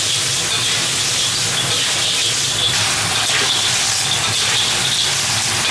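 Sichuan peppercorns tossed into a wok with pickled chilies, bean paste, garlic and ginger make a continuous loud hissing sizzle, close and unbroken, with faint scraping and no talking.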